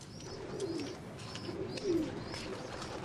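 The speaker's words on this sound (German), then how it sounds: "Tauben übrigens sind auch Bewohner der vermauerten Stadt. Besser gesagt, sie werden hier gezüchtet." Racing pigeons bred in a loft inside Kowloon Walled City coo in low, repeated rolling phrases, several overlapping calls at moderate distance against a steady background hum, with no talk.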